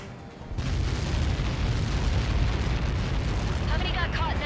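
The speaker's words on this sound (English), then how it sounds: "How many got caught in that explosion?" A large explosion in the Ace Combat 7 combat flight game booms in and holds as a sustained heavy roar for several seconds, loud and close, with faint radio-style chatter near the end.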